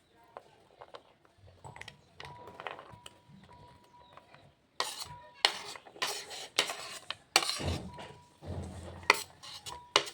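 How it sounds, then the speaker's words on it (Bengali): Cut carrots washed in a bowl: irregular clinks, knocks and watery sloshing bursts, faint at first and then louder and more frequent. "এবার গাজরগুলোকে ভালো করে ধুয়ে নেব।"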